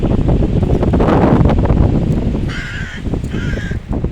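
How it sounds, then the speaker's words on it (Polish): Two harsh raven caws ring out over steady gusting wind and distant surf on an Irish beach, the birds calling from some distance. "kruki przelatują"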